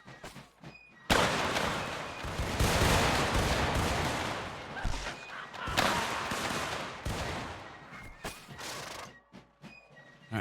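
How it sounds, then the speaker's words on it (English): Musket volleys crack out in Mount & Blade Warband's American Civil War setting, several loud ragged bursts of massed gunfire with rumbling echoes, separated by short pauses and a few scattered single shots. "And we'll just continue to give them some volley fire here"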